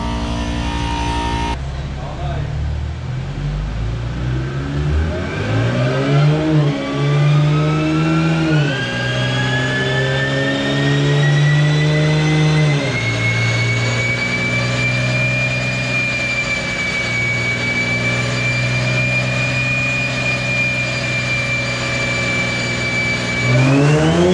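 A Whipple-supercharged Nissan 370Z, a lowered car, revs loudly on a dynamometer, its engine tone climbing steadily in a long sustained pull after a short idle, with a faint voice briefly heard.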